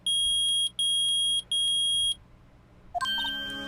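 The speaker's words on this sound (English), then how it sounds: "The metal detector's found something. Sure is loud enough about it." A metal detector in the Phoenix Wright: Ace Attorney video game sounds three loud, piercing electronic beeps in a steady rhythm, followed by a short musical chime.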